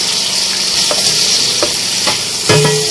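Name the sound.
green chillies sizzling as they are added to frying chicken masala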